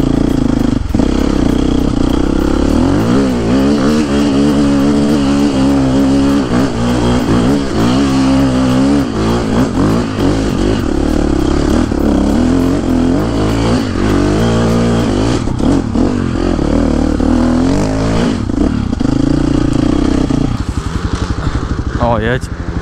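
A small motorbike climbs a hill, its engine revving and shifting pitch steadily throughout, loud and close, with people talking over it.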